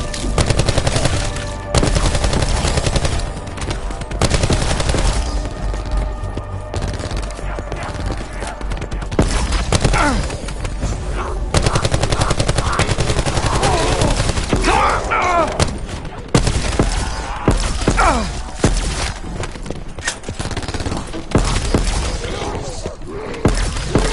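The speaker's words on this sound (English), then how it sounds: "Kinda hard to hear anything over the shrieks, explosions, and gunfire." Gunfire and explosions in the Call of Duty video game, rapid bursts and heavy blasts going nearly nonstop and loud throughout, with voices shouting over the chaos.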